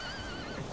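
A horse neighs in the fantasy MMO Riders of Icarus, a short whinny with a wavering rising-and-falling pitch over a steady low game background hum, close and fairly loud.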